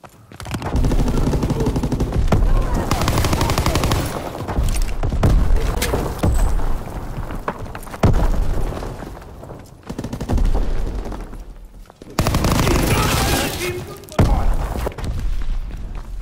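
A grenade explosion in a Call of Duty WWII Hardpoint match, heavy booming blasts mixed into long stretches of dense, loud gunfire, with brief lulls between the heavy bursts.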